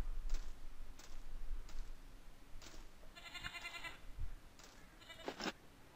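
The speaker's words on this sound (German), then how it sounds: "Ziegen werden auch am Leben gelassen, wie es scheint." Goats bleat several times in the medieval strategy game Decision: Medieval, short nasal calls repeating at irregular intervals over a quiet, ticking game background.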